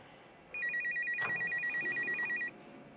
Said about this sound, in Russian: Федор Михайлович звонит